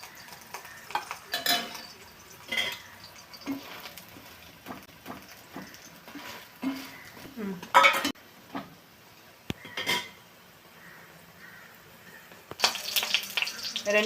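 Black urad dal adai fries in oil in a pan, giving soft scattered crackles and clinks of a utensil against the pan, fairly quiet and uneven, with no talk.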